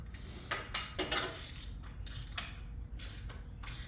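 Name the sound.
threading a new oil filter onto a motorcycle by hand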